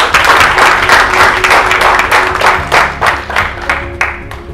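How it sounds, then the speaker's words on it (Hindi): An audience at a live presentation applauds the launch of a new game, loud, dense clapping that swells in irregular bursts and tapers slightly toward the end, with no talking over it. "एक बार अगेन उस पर जोरदार तालियां गाइस"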